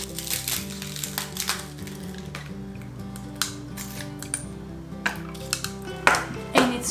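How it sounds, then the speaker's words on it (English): Ice cubes drop into a glass of salted yogurt ayran, giving sharp clinks and rattles over steady background music, with louder knocks toward the end. "Add some ice cubes."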